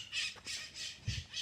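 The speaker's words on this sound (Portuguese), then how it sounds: "Olha os barulhos dos pássaros," Parrots squawk in lush nature beside a house near São Paulo, a few harsh repeated calls close by, fairly faint, with no talk.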